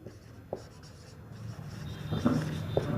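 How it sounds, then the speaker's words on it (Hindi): Word written by hand on a classroom board, a soft scratching and rubbing stroke sequence with a couple of firmer taps, close and alone with no talk. "जो मेरा फोर्थ वर्ड है वो मैं लिखता हूँ हैजार्ड"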